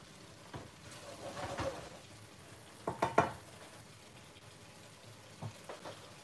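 Ginger curry sizzling quietly in a pan after stirring, a low steady hiss broken by a few soft bursts of spattering and stirring clatter, no voices.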